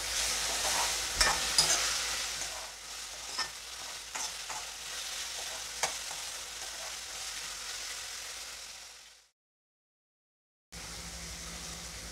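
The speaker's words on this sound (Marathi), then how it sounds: "टोमॅटो सुद्धा आपण नरम करून घेऊया।" Chopped tomato stirred and softened in a pan for a cabbage and chana dal bhaji, a steady soft sizzle with scattered spatula scrapes and taps, then a brief dead silence before the sizzle returns.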